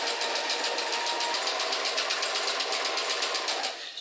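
A sewing machine stitches a rolled hem on a dress, humming in one steady, continuous run with a fast rapid needle pulse, close and fairly even throughout.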